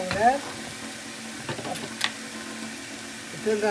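Beetroot sizzles and fries in a pan with soft scraping as it is stirred, a steady close hiss under occasional clinks, with a voice talking faintly in the background.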